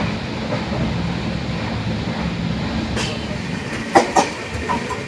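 A Jan Shatabdi passenger train bound for Thrissur, Kerala, rumbles along steadily with a constant low roar, a few sharp rattles and clanks breaking through toward the end.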